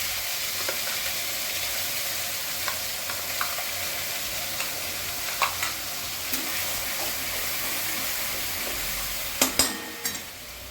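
Mustard and poppy seed paste with green chilli and salt fries in a pan for a Bengali shorshe ilish, making a steady soft sizzle broken by scattered spoon scrapes, with a cluster of louder knocks near the end.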